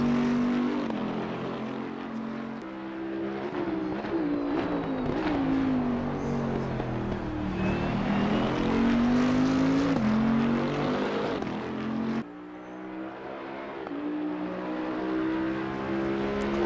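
Bentley GT3 race car in Assetto Corsa Competizione at Circuit of the Americas, its engine loud and close, revving up through the gears with shifts and throttle lifts, pitch rising and falling over a long stretch of track.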